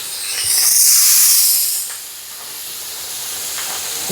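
Loud, hissing sizzle of live prawns frying in a hot wok swells up, then settles into a softer steady crackle.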